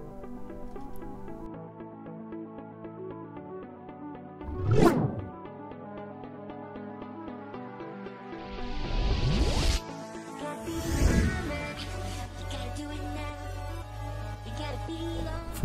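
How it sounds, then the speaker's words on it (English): A Power-TEC self-piercing riveting tool sets a rivet through a top sheet into the lower sheet, giving a few loud hydraulic surges and a hiss over a steady mechanical hum, heard alone without talk. "The riveting action is smooth and powerful."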